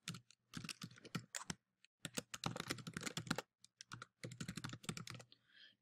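Quick, close clicking of keys on a computer keyboard as an email address is typed, coming in irregular runs of keystrokes with short gaps between them, fairly quiet and with no voices.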